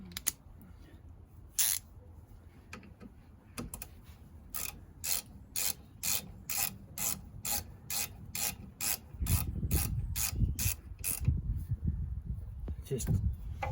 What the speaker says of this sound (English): back on with the 12mm socket